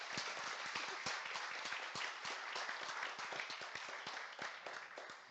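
Audience applause after a conference talk on testing PHP APIs, a dense steady clapping from a sizeable crowd that holds for several seconds and thins slightly toward the end.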